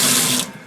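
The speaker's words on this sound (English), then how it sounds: "turn the water on" Water gushes from a tap with a steady bright hiss that cuts off about halfway through, leaving a faint trickle.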